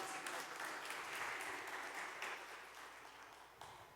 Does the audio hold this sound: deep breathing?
no